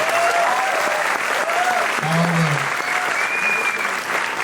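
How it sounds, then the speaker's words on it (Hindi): An audience at a press meet breaks into sustained, dense applause that continues evenly throughout, with a voice briefly audible beneath the clapping. "इसके लिए जरा एक बार जोरदार तालियां सोनू जी के लिए"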